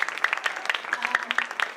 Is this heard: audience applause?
yes